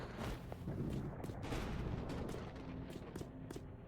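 Bombs go off in the video game Evil Tonight, a faint, dense run of low booms and rumbling blasts that overlap throughout with no talking.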